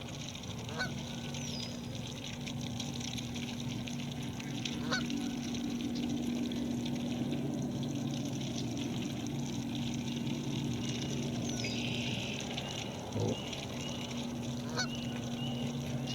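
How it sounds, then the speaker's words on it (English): A group of geese and goslings honk from about a hundred feet away, repeated short calls over a steady outdoor hum and faint engine drone, distant and moderately quiet with no talk. "They're busy little goslings, huh?"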